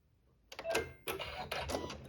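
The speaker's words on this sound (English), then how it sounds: "and we'll sew our seam" Sewing machine stitching a seam through layered quilting fabric for a tablet sleeve, a short rapid mechanical whir in two or three bursts with brief pauses between them, close and clear.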